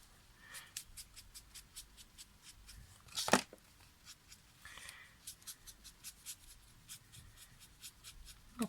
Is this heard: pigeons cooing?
no